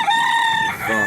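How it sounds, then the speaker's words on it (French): A single rooster crows close and loud, a short cock-a-doodle-doo call that rises and then breaks off, with no talk over it. "un coq et son harem"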